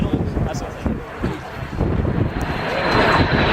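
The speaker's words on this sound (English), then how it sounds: "here we have, ladies and gentlemen, the Meteor and the Venom" Gloster Meteor and de Havilland Venom jet aircraft flying past together in formation at a historic air display, a broad roar swelling steadily louder toward the end, with wind buffeting the microphone throughout.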